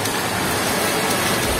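Steady, heavy rain falls close by, a dense even wash of drops hitting surfaces, continuous and loud with no voices.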